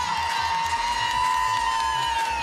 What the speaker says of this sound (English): And the crowd is so excited.